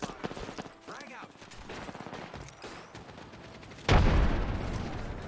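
A frag grenade explosion and gunfire in a battle royale video game: scattered gunshots and clicks, then a loud sudden blast with a lingering rumble near the end, with a voice speaking briefly earlier.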